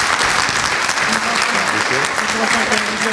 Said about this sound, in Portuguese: Mais uma salva de palmas para vocês